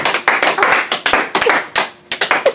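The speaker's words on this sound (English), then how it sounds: "Whenever we mention the show, we give our resume, we applaud." A small group applauds after a mention of the Broadway musical Tootsie backstage, sharp close hand claps in uneven bursts with brief gaps between them.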